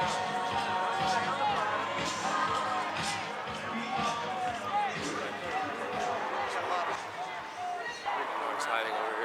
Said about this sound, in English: See the crowd? I have seen the crowd. It's a big crowd.